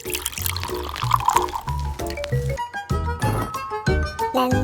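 Water pours into a tiny miniature cooking pot in a few bursts, splashing and trickling with faint clinks of the small vessel, close and clear without any talk.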